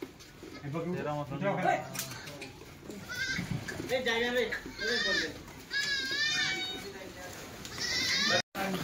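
Kathiawari goats bleat repeatedly from a delivery truck carrying about 95 animals, their calls overlapping and close, with people talking throughout.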